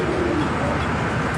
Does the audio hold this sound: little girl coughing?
no